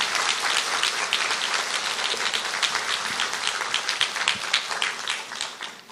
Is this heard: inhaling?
no